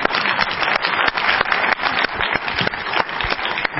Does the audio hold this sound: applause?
yes